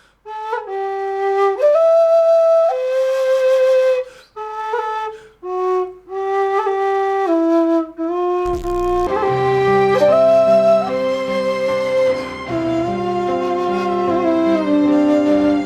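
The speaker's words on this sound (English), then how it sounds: "This whistle's in D and the song's in C" A tin whistle in D plays a lilting melody in C with clear, bright notes, pausing briefly before continuing the tune more steadily.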